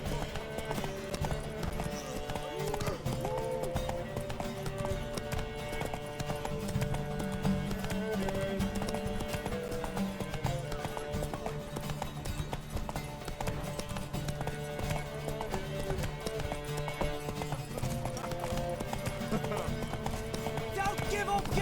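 Horse hooves clip-clop at a quick galloping rhythm over background music in The Witcher 3: Wild Hunt, with occasional voices speaking.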